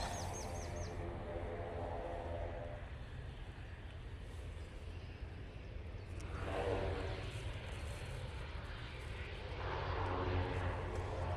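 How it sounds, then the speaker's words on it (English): A Virgin Atlantic Airbus A330 from Atlanta on short final to Manchester Airport makes a faint, distant jet rumble that swells twice, with a few bird chirps at the start. "We do have that Virgin A330 now in short final"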